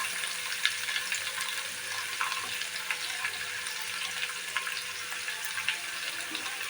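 Grated capsicum and carrot frying in a pan for paneer bhujia, a steady soft sizzle with light crackles throughout, fairly quiet and with no voices.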